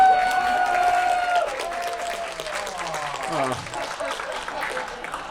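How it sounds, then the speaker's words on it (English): HarmonyCon 2022 convention audience applauding, a sustained burst of clapping that fades slowly while a voice talks over it. "start giving a round of applause to that beautiful individual standing up against the wall"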